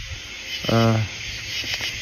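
A night chorus of crickets, cicadas and frogs in a small-town American yard makes a constant high buzzing hiss, with one short tonal croak or call rising briefly above it.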